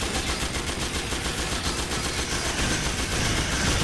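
Enemy gunfire in the game Metal Gear Solid 4, a loud, continuous, rapid automatic burst with no talk.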